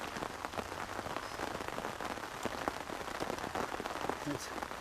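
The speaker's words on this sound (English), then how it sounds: "I could just sit here and listen to the rain" Rain patters densely on a tarp shelter while camping, a close, constant crackle of many small drops striking the fabric with no letup.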